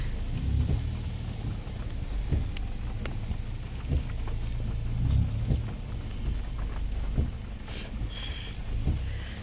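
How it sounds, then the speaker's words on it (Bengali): Heavy rain pouring outside a guesthouse in Ladakh in the early morning, a dense, constant hiss with low rumbling underneath and scattered louder drips and splashes throughout. "বাইরে ভালোই বৃষ্টি হচ্ছে।"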